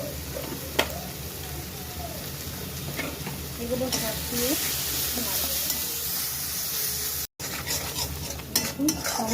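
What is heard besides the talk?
spices (red chili, turmeric, coriander powder) frying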